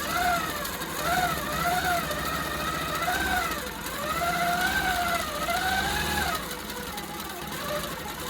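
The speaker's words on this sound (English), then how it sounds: "And I've got my machine set to 10 stitches an inch." A longarm quilting machine stitches steadily at 10 stitches per inch, a continuous close mechanical whir with a rapid rhythmic chatter whose pitch rises and falls as the machine moves.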